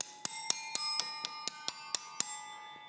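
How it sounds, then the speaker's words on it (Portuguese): A bell tree of chimes played with coins rings in a steady run of about ten bright, evenly spaced metallic strikes, each leaving a shimmering sustain, close and clear with no talking. "Moedinhas com a nossa árvore de sino."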